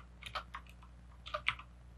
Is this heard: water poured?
no